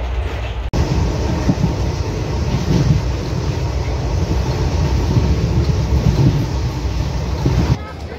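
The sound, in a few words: train at a railway junction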